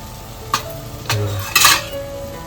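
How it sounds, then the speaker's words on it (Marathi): Prawns tipped into a pan of sautéed onion and tomato gravy and stirred, with a few clinks of a spoon against the pan and a soft sizzle, heard up close without talk. "इकडे ना ही सर्व आता कोळंबी ह्याच्यामध्ये घालून घेतोय"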